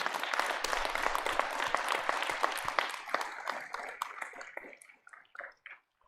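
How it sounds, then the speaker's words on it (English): A commencement audience at Juniata College claps for a graduate speaker, dense applause fading over the last second into a few scattered claps. "Let's give Oni a round of applause, please."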